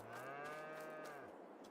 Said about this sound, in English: We shall feed the cows.